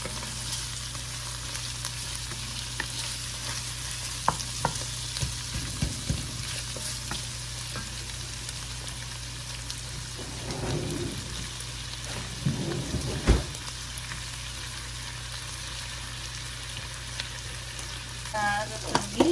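Frozen food thaws in a hot pan, giving a constant, even sizzle with a few soft clinks and bumps now and then.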